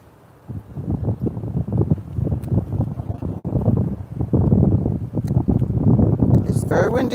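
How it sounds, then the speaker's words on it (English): Strong wind gusts across a garden microphone on a cool morning, a steady low rumbling buffet with rustling, loud and continuous throughout. "It's very windy here today"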